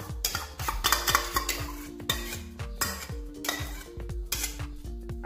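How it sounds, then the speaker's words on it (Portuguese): A spoon scrapes and clinks rhythmically against a bowl while cream and flour are stirred together into pastel dough, steady repeated knocks close by with no talking. "Misturar todos os ingredientes."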